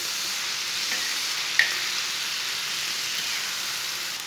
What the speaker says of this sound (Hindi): अब 5 मिनट तक भून लेंगे।